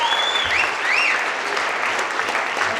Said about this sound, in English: 49, you clap for that